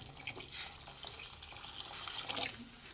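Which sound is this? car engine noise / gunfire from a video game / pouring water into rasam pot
pouring water into rasam pot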